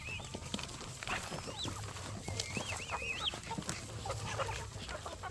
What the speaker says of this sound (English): It's like a woodland of chickens.